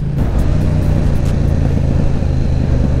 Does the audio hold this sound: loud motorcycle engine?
yes